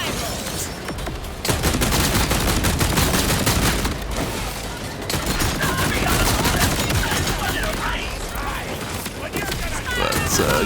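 Rapid bursts of Potato Thrower IV assault rifle fire in Borderlands 4, loud dense volleys with explosive booms layered over game effects, nearly continuous across the clip with a player talking over it.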